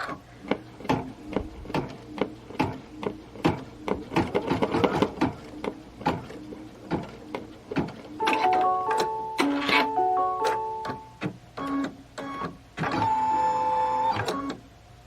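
An embroidery sewing machine stitches a design with a rapid mechanical ticking and clatter close by. It runs in bursts with short pauses, and higher whirring passages come near the end.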